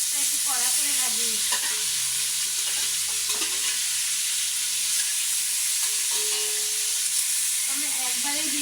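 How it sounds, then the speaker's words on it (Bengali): Roast pieces fry hard in a hot pan, a steady loud sizzle running throughout with occasional stirring scrapes and clatter. "আমি একটু সবসময় রোস্টটা একটু কড়া করে ভাজি।"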